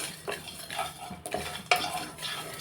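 Peanuts and sesame seeds dry-roasting in a pan, stirred in quiet repeated scrapes and rustles with a sharp utensil knock, fairly faint and close.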